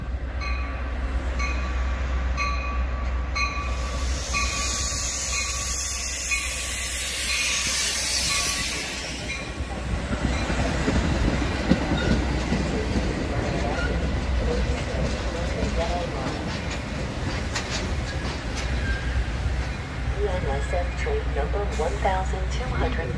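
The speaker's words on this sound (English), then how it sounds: "NSF train number 1256 to Chicago Union Station is now arriving" A Metra commuter train rumbles and hisses as it pulls into LaGrange station, steady and fairly close, while an amplified voice makes announcements over it.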